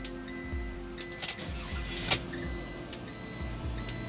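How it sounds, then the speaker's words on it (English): A car engine turns over and starts after immobilizer programming: regular cranking pulses, a few clicks, then a brief burst as it catches, all fairly faint. "All right, and our engine is running."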